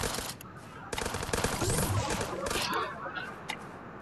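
Rapid gunfire rattles in a video game in dense, loud bursts, with quieter shots before and after.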